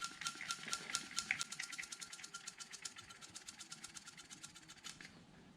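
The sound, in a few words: hand vacuum pump testing valve seal on engine cylinder head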